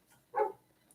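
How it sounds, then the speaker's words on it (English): A neighbour's dog gives a single short bark, faint and distant, in an otherwise quiet room. "I got a neighbor dog barking"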